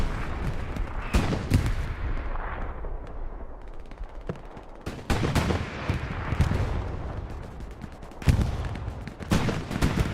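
Gunfire in the World War II shooter Hell Let Loose on the Kharkov map during a competitive match: repeated sharp cracks and bursts, some close and loud, others distant, over steady battlefield rumble.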